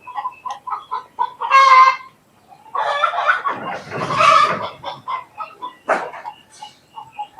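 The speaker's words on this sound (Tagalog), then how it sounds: "Ingay naman ng manok. Nasa taas kasi guys oh." Chickens cluck in rapid, close bursts above an abandoned house, broken by a rooster's harsh crow and a dog's barks, with more clucking running on afterward.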